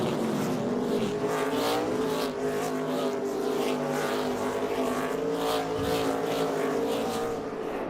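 NASCAR Xfinity race cars on the Daytona road course make a continuous loud roar of engines, with passing cars swelling and fading in the pack.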